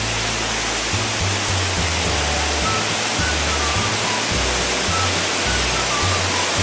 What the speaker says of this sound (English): Let's pour all the water to the river.